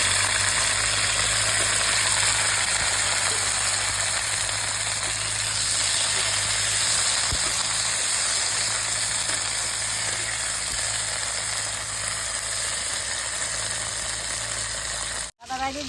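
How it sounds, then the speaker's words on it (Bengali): Okra hitting hot oil with onion in a home pan, giving a steady loud sizzle and hiss that runs unbroken throughout, with a low hum underneath. "ভেন্ডি দিয়ে তেলের মধ্যে দিয়ে দিই।"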